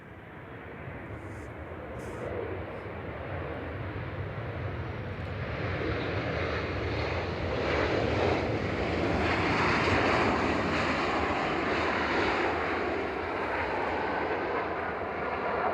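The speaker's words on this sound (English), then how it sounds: "Just on short final now, we have got Jet2 737-800." A Jet2 Boeing 737-800 on short final into Manchester Airport, its engines a steady broad roar with wind noise at the microphone, swelling gradually as the aircraft passes.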